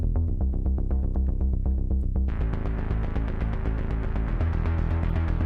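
Two layered synth bass sounds play together in a steady throbbing electronic pattern, loud and continuous, with brighter upper texture entering partway through; no talking.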